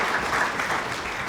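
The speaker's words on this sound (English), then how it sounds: "thank you, round of applause to Dr." An audience at a nonprofit leadership awards event claps for Dr. Dietrich, a short stretch of soft, steady applause fairly distant in the room.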